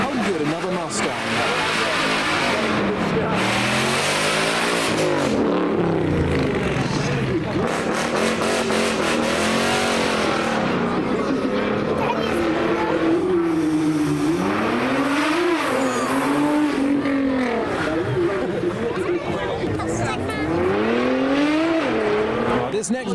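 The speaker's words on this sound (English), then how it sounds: "we've got launch control from the Huracan STO" A Lamborghini Huracán STO engine roars through repeated rising and falling revs for over twenty seconds, loud and close, with tire squeal and a voice talking over it.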